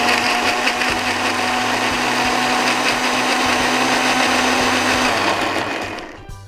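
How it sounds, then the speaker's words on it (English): A Ninja blender churns Ruvi powder with ice in one continuous, loud, high-pitched whir with a gritty crunching texture, running steadily for about five seconds before winding down abruptly. "So dump that in the blender."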